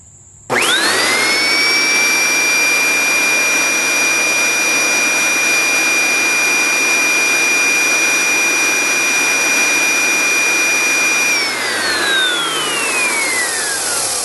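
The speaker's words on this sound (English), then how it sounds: "What I want to try first is to just turn the machine on and see if anything's blowing out of here." An Oreck XL Commercial upright vacuum cleaner with a suspected clog switches on and runs steadily, a loud whining motor with a constant high tone and airflow roar that holds for about eleven seconds before winding down.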